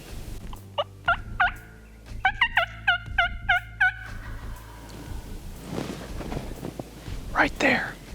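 Wild turkeys gobble in a rain-soaked Wisconsin woodland at midday, a burst of several rapid rattling gobbles answering each other fairly close by, followed by soft rustling and hushed whispering nearby.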